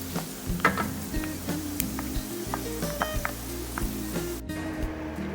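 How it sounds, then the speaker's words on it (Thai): Fatty pork rind frying in hot oil, crackling and popping steadily with a dense sizzle and scattered sharp snaps throughout, close and alone with no voices. "อนนี้เราจะได้ยินเสียงดังก๊อบแก๊บก๊อบแก๊บนะครับ ของหมูนะครับ"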